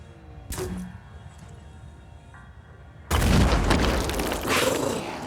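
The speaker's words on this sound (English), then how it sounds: "Let's have Chigger use his grenade" A grenade explosion in Phoenix Point, a single loud booming blast with a rumbling tail, preceded by a sharp earlier impact and quieter game ambience.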